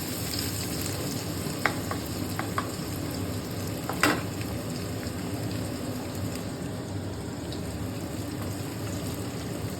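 Ginger and garlic sizzling in hot oil, a soft continuous crackle with a few sharper pops and a clink of utensil, heard alone and fairly quiet.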